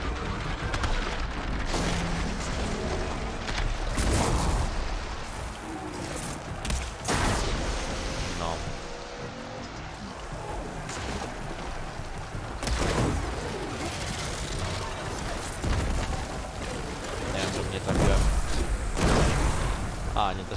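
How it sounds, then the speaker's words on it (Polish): Repeated gunfire bursts and booms from the video game Horizon Forbidden West crackle over a continuous noisy background, with loud shots scattered throughout. "Strzały."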